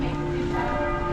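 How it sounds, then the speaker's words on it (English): Church bells ringing in Munich's old town, sustained tolling tones with a steady hum of overlapping resonance that stays loud and even across the moment, heard alone without voices. "Those bells are coming on over here."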